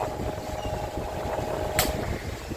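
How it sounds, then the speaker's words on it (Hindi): A ceiling fan runs indoors as a steady, low whirring hum with a faint tonal drone, alone and unbroken throughout. "पंखे का शोर आ रहा होगा"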